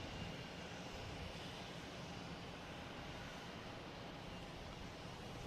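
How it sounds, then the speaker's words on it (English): Air France airliner taking off at Boston Logan Airport, a steady, broad jet roar heard from a distance that holds at an even level throughout with no talking. "we got Air France taking off next"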